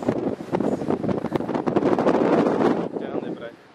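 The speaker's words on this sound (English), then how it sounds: "Good luck trying to walk steady in this wind." Strong gusty wind near a lighthouse on the Honolulu, Hawaii coast, buffeting the microphone in uneven roaring bursts at close range, with a brief lull near the end.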